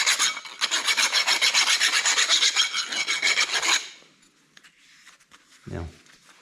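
A file rasps back and forth over a burr on the edge of a stainless steel exhaust pipe in quick, even strokes, close and clear, before stopping; a short thump follows in the quiet.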